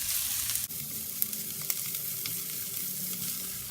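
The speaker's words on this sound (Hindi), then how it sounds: "हमने प्याज को लहसुन को 1 मिनट भुना था" Onion and garlic fry in olive oil in a pan, giving a soft, steady sizzle with a few small pops and one brief stir-like clunk. No one speaks.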